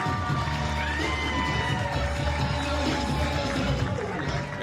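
A St. Louis crowd at a Glory Pro wrestling show roars and cheers steadily throughout, a dense, loud wash of voices with shouts rising out of it.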